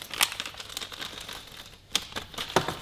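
Plastic packaging of a rear wiper delete kit for a Honda Civic FL5 being opened, with scattered crinkling and crackling of plastic and a few sharp snaps, close and moderately loud.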